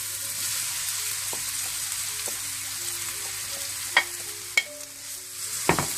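Vegetables and rice stir-frying for Chinese rice, a low steady sizzle with a faint hum, punctuated by several sharp utensil scrapes and taps against the pan toward the end.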